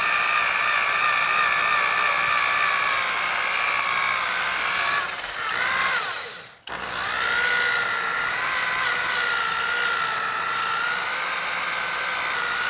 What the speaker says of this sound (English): And I'll slow the polisher way down just to reduce my risk of screw up.